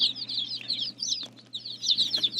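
Baby chicks, including a small Silkie, peep in a steady chorus of high, bright calls close by, with no talking.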